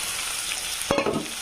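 Ground roasted peanuts, cumin and okra seeds frying in a pan. A dense sizzle runs throughout, with a brief scrape of stirring near the end and no talk.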